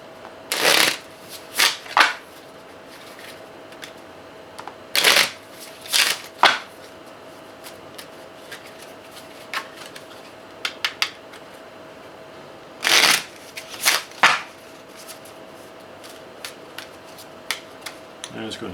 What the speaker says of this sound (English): I'm going to go ahead and shuffle these up together.